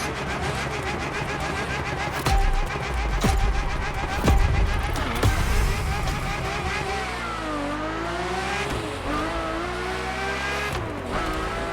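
A Ferrari F50 engine in The Crew Motorfest racing game screams at high revs, shifting pitch up and down through gear changes, with tire squeal and a couple of heavy thumps, loud and continuous.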